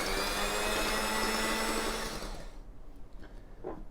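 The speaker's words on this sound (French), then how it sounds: "on va commencer par casser notre œuf. Puis on commence à battre légèrement." A single egg, cracked for coffee cookies, is beaten with a loud, steady motorized whir that cuts off after about two and a half seconds, leaving faint kitchen clinks.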